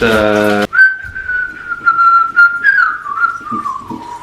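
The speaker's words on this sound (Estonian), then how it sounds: "Kas te teate, kus ma õppisin vilistama või?" A person whistles a single sustained, wavering tune that carries on steadily, with a short burst of harmonic-rich sound just before it begins.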